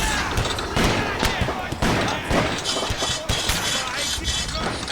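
Musket volley fire in a Napoleonic war video game depicting the Battle of Borodino, a dense crackle of many overlapping loud shots and thumps rippling unevenly across the whole span, close and sustained.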